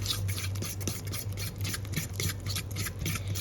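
An egg and masala mix, with salt and flour added, is stirred steadily in a bowl for a chicken fry, giving a continuous close scraping rasp with repeated strokes over a low steady hum.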